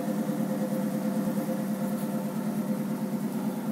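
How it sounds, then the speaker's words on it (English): A 1973 AMC Gremlin X engine idles in a low, even rumble with a steady pulsing texture, fairly quiet and unchanging, with no voices. "Who'd want to hear the radio when you can hear that engine?"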